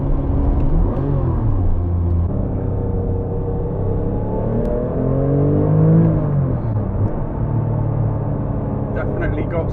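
A Porsche 997 Turbo with around 550 horsepower accelerates hard from inside the car, its engine note rising and falling through the gears under someone talking.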